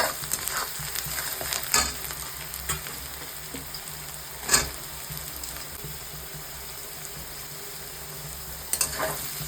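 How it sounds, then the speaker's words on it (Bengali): Continuous close sizzling of potatoes and onions frying in a pan, broken by occasional sharp scrapes and clinks of a spatula; no talking. "আলু আর পেঁয়াজটা ভাজা হয়ে গেছে"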